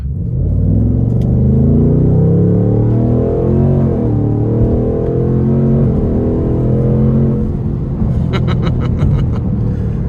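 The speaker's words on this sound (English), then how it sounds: "I'm gonna give it a little something just so we can hear it in the sport mode" A 2026 Ford Mustang GT Premium in sport mode accelerates onto a wet interstate, its V8 rising in a loud, steady engine drone with no talk.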